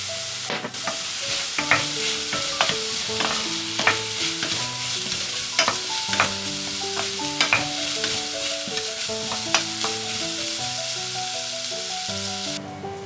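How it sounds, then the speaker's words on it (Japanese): Corn kernels and softened onions stir-fry in a pan with a steady sizzle broken by repeated scraping stirs at an even rhythm, close up, over a faint tonal backdrop. "透明になったらトウモロコシを入れてさらに 2、3 分炒めます。"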